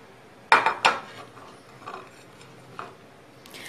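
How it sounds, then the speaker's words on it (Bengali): A spoon knocks and scrapes in a bowl while potato paratha filling ingredients are mixed: a few sharp, close clinks early on, then softer scraping taps fading into quiet. "সব ইনগ্রেডিয়েন্টসগুলো এক এক করে মিশিয়ে ফেলছি এর মধ্যে।"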